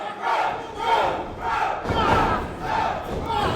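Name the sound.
wrestling crowd chanting for Elliot Qrow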